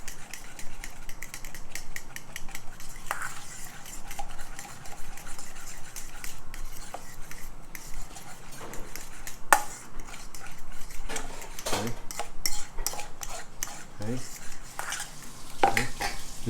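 Carbonara ingredients being mixed in a bowl, with steady scraping and clinking of a utensil against the dish and sharper taps near the end, close and moderately loud, no talking.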